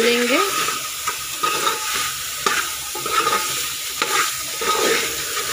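Pulao masala stirred and fried in a pan, with a loud continuous sizzle and repeated scraping strokes of a spoon every second or so, close and clear with no talking.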